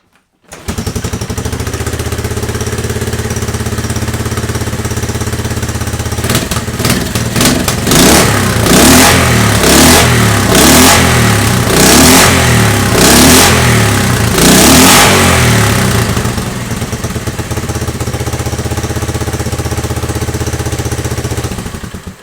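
A 1973 Honda XL250 motorcycle engine idles loudly and close, then blips through a series of sharp throttle revs in the middle before settling back to a steady idle.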